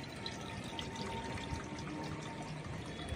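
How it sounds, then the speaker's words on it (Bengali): Milk pours steadily into a kadai while malai roll is being made, a continuous soft liquid splash and trickle running close and alone for the whole moment. "এই কড়ার মধ্যে আমি এখন দুধ দিয়ে দেব।"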